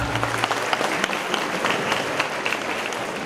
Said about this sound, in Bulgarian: Бурни аплодисменти за Петър Лефтеров!